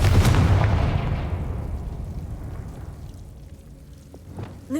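A Confringo blasting spell cast in Hogwarts Legacy: one loud fiery burst at the start that decays into a long rumbling tail, with a faint sharp crackle near the end.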